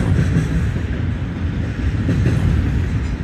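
A southbound Norfolk Southern intermodal train rolls steadily past, a loud, continuous low rumble of wheels and cars with no break, heard close by and without any talking.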